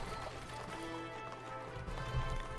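A donkey trotting on hooves in the strategy game Majesty 2, steady clip-clop steps under a bed of background music, moderately quiet.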